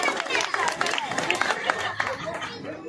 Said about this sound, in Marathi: जोरदार टाळ्या वाजवायच्या आहेत।